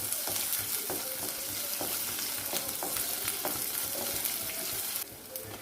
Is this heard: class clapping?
no